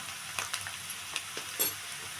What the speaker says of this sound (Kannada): ಶುಂಠಿ ಬೆಳ್ಳುಳ್ಳಿ ಪೇಸ್ಟ್ ಹಾಕಿ ಸ್ವಲ್ಪ ಎಣ್ಣೆಯಲ್ಲಿ ಫ್ರೈ ಮಾಡಬೇಕು